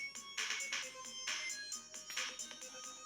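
Startup chime of a Mortal Kombat Deluxe Retro530 arcade cabinet as it powers on: a bright, repeating electronic ringtone-like jingle in short bursts, clear and fairly quiet, with no talking.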